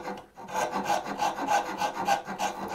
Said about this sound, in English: I could come in my rasp again